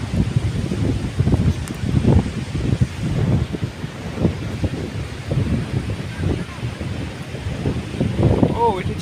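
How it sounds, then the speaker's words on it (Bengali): Steady wind buffets the microphone on a rough seashore, over a continuous roar of heavy surf with low rumbling gusts throughout and no clear talk. "সমুদ্র খুবই উত্তাল, সুন্দর হাওয়া চারপাশে"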